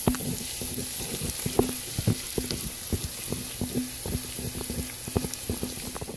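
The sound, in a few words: chopped onion and garlic frying in oil in a pan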